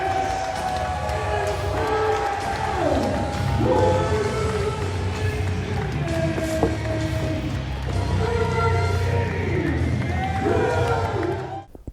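A wrestling crowd at a Warrior Wrestling War of Attrition match chants 'Swolverine' for Brian Cage, a loud, rhythmic, repeated group chant filling the arena with steady background roar.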